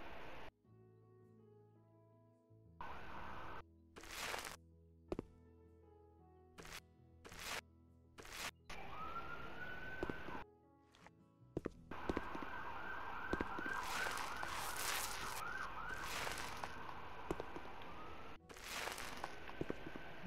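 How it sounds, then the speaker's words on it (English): Police sirens wail in the House Flipper video game, rising and falling in long sweeping tones over a busy, cluttered game soundscape, with intermittent sharp bursts and clatter mixed throughout. "Here come the sirens"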